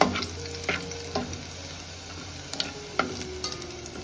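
Crushed garlic fries in hot oil with a steady soft sizzle, while a spoon stirs the pan and adds scattered light scraping knocks close by.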